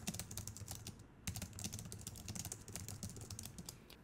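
Rapid, close clicking of computer keyboard keys as a short label is typed into an Excel spreadsheet cell, a steady run of keystrokes with one brief pause, heard alone.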